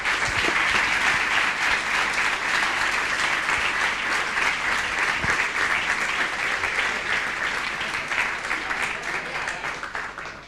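Audience applause at an architecture collective gathering, a dense, even patter of many hands held steadily for about ten seconds before beginning to thin out near the end.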